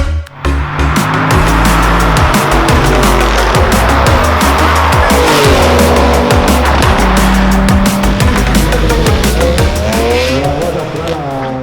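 An Audi A4 drag car at a Tartu drag race accelerates hard with loud, sustained engine roar and repeated tire squeal and skidding, close and dominant throughout.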